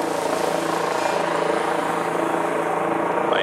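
A helicopter's steady rotor drone, loud and constant overhead, with no talking.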